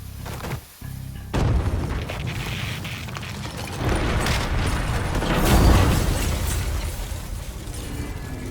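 Dynamite blasts in Mafia III: a sudden heavy boom breaks in, then rolls into a loud, sustained roar of rumbling debris that swells again partway through, with no voices over it.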